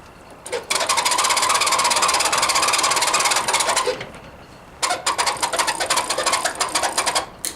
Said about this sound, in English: You crank the phone, you're going to hear a buzzer. That's the night alarm.